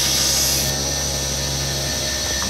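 A round bar knife being ground on a belt grinder gives a steady, loud abrasive hiss with a constant motor hum underneath, continuous throughout and with no talking.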